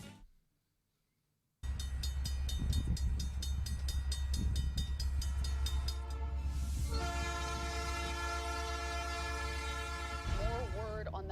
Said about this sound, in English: Runaway freight train in Pennsylvania.